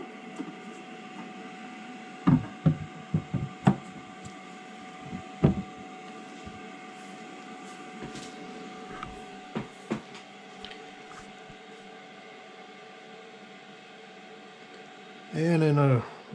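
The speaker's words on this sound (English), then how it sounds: "I can assume that it's printing now" A printer running a test print job gives a steady mechanical hum with scattered clicks and knocks, and a brief louder whir near the end. A person may speak faintly now and then.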